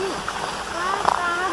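A brief stretch of steady, rushing river water along a forest trail in Rio de Janeiro's Pedra Branca park, with voices speaking over it.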